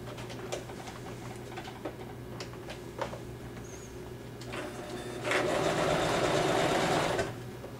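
A sewing machine stitches a seam on a handmade puppet, its fast steady whirring burst rising loudly near the end after a quieter stretch, with pigeons cooing in the background.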